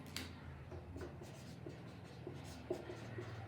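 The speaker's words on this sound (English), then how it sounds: "Here I will write" Pen writing by hand on paper, a steady scratching of strokes with small taps, close and fairly quiet, while chemistry notes on amylose are written out.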